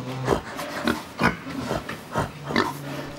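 A man imitates a pig, giving a series of short grunting oinks in an irregular rhythm, close and fairly loud, with no other talk.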